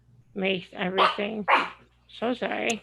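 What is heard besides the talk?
dog barking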